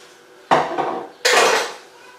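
Dishes, pots and cutlery clatter into a kitchen sink for washing up, two loud clattering bursts close by, the second longer and trailing off.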